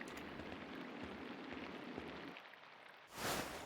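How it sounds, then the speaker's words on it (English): Steady rain falls in the medieval game Pentiment, a dense even hiss that briefly dips quieter before swelling back with a brighter burst near the end, heard alone. "Oh, you can hear the rain."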